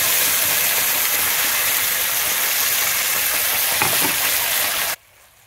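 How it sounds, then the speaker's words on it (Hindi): Ground spice masala fries loudly in oil in a pan for a restaurant-style matar mushroom curry, a dense continuous close sizzle that cuts off abruptly near the end, with no voices. "अभी हमें इसको अच्छे से भूनना है जब तक तेल अलग ना हो जाए"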